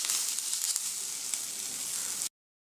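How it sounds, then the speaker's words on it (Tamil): Chopped onion and tomato frying in a pan for a drumstick-leaf soup, a steady close hiss of sizzling oil with faint crackles, alone, cutting off abruptly. "2 நிமிஷம் வந்து நல்லா வதக்கி விட்டுக்கலாம்"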